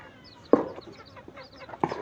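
An elderly chicken over five years old clucks twice, close by, with short, sharp calls and quiet soft murmurs between them.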